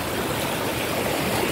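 Rising floodwater rushes along a river in Isabela, a loud, dense and continuous roar of flowing water close by with no pauses.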